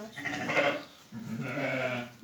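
Two drawn-out sheep bleats close by, one after the other with a short pause between them.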